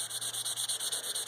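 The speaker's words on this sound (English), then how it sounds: "I just want to sand the higher edges of the clear coat." Hand sanding of clear coat on a Chevrolet Equinox during a home rust repair, a steady rhythmic scrubbing of short back-and-forth strokes, close and even, with no voices.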